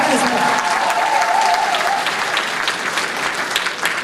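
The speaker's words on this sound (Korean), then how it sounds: "큰 박수 부탁드리겠습니다." Enthusiastic applause from a crowd welcoming a candidate for Haeundae-eul at a political concert event, loud and continuous with faint voices mixed in.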